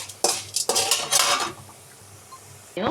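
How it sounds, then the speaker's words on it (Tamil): Ingredients for mint chutney are dry-roasted in a pan, heard as a few bursts of metallic scraping and clinking from a spoon against the pan, separated by quiet gaps. "நல்லா வறுத்து எடுத்துப்போம்"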